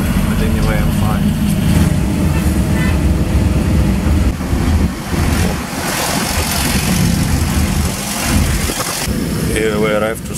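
Engine of a small public transport vehicle in the Philippines, a loud, steady rumbling drone heard from inside the cabin with road noise and someone talking over it.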